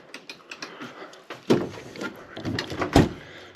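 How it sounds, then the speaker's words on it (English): A refrigerator door swings shut inside a Prevost Class A motorhome, with two close, solid thumps following some light handling clatter and no talking. "Shut the fridge."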